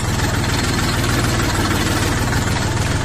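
An Orion 24 hp mini tractor engine idles steadily up close, a loud, even low rumble with a rapid regular throb and no speech over it.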